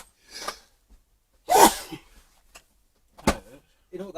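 A single sharp sneeze from a person during a paranormal investigation, preceded by a small breath and followed by brief voices talking nearby.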